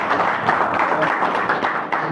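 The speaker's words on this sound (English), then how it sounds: "Please give him a round of applause" Seminar attendees applaud a retired official, a sustained round of many hands clapping, fairly loud and even, with faint voices mixed in.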